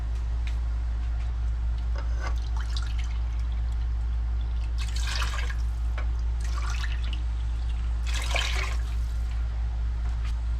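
Water poured into a pot of BBQ sauce made with crushed tomatoes from a 1947 recipe, heard as a few short splashy pouring bursts over a steady low hum, with no talking.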